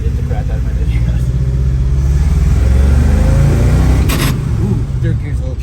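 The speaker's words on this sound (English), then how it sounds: "So I finished the power steering on the Scout, and we're out for a test drive." An International Harvester Scout II's engine drones and pulls through the gears on a test drive after a power steering conversion, loud, continuous and low from inside the cab, with a short higher whine near the end.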